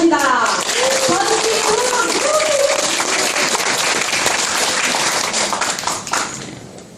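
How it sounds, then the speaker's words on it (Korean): Audience applause welcoming a lecturer to a Korean history lecture hall, dense steady clapping from a crowd that carries on for several seconds before slowly thinning out near the end. "여러분 힘찬 박수로 맞이해 주시기 바랍니다"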